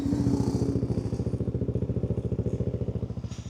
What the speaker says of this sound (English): Here comes bike number two.